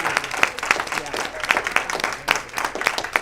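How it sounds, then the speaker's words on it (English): An audience claps for Barbara at a community talk, a short burst of scattered, uneven applause with a few sharper claps standing out. "Give Barbara a round of applause."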